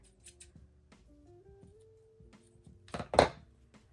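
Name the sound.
scissors trimming fabric label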